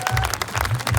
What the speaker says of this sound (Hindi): कलीसिया ताली बजाएंगे।